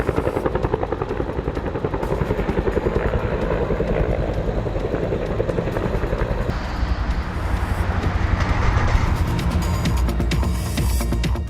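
A helicopter fighting a wildfire in British Columbia thuds overhead, its rotor beating in a fast, even pulse with engine whine, loud and continuous throughout.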